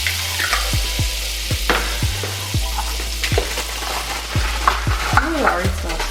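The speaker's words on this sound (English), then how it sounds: "All right, so then we're going to add some of our garlic." Garlic fries in a hot pan for shrimp fried rice, a loud close sizzle with repeated scraping strokes and low thumps from a utensil moving it around, no voices.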